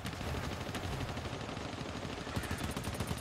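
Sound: machine gun fire in video game GTFO

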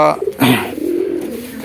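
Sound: pigeons cooing

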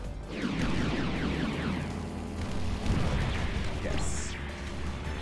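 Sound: enemy dying explosion in video game Sky Rogue

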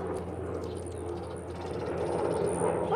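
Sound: loud military helicopter flying overhead

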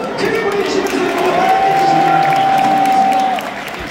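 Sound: stadium crowd applauding at a baseball game

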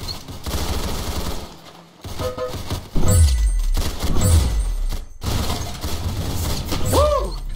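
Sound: gunfire in the Roblox game Arsenal

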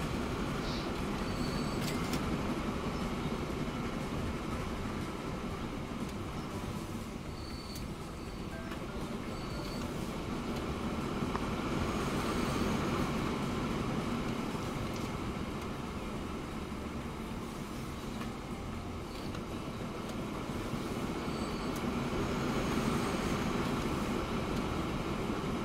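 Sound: trains at a full station in the video game Transport Fever 2

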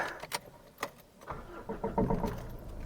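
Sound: Mitsubishi Triton pickup truck engine starting

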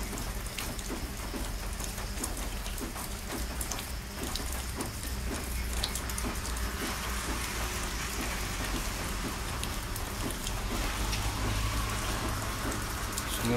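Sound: rain falling

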